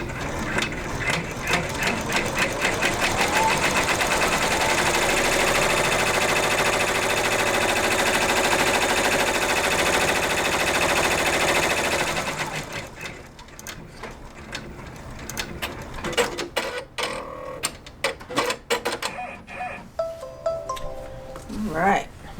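A sewing machine stitches a placement line on fabric for a moon shape in a whimsical advent calendar project: a loud, steady mechanical whir runs for about twelve seconds, then stops, leaving scattered light clicks and handling noises.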